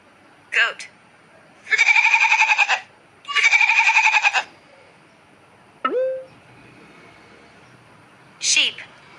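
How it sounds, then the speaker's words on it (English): A goat bleats in two long, loud, wavering calls, bracketed by short sharp cries and a brief rising squeak, each standing alone against a quiet background. "Goat."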